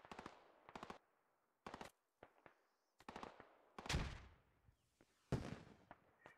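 Bursts of automatic rifle fire and single shots crack out in the military shooter game Squad, arriving in sharp irregular volleys separated by short silences, some loud and near, others fainter, with no voices.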